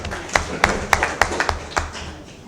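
A small group at a municipal council meeting gives applause honoring Madame Baro, heard as a handful of distinct, evenly spaced claps standing out over a thinner patter that fades toward the end.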